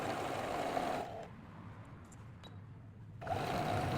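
A sewing machine runs a straight pocket seam along a marked line with a backstitch at the start, its steady motor buzz stopping for about two seconds mid-run before starting up again at the same level.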